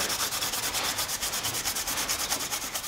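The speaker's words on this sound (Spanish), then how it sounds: "con una esponja, un Scotch Brite y lubricante, es como nosotros vamos a terminar" Rapid back-and-forth scrubbing of a Citroen Peugeot engine block surface with a sponge, Scotch-Brite pad and lubricant during a cylinder head replacement; steady rhythmic rubbing strokes, close and continuous, no voices.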